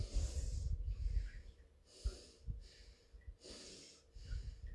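Deep, forceful breaths taken during an exercise routine, a series of loud inhales and exhales close to the mic in an uneven rhythm, with no talking.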